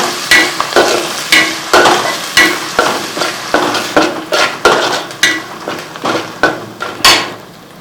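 Chicken liver fries in a pan, a constant sizzle broken by repeated sharp scrapes and knocks of a utensil stirring against the metal, roughly one stroke per half second, loud and close with no talking.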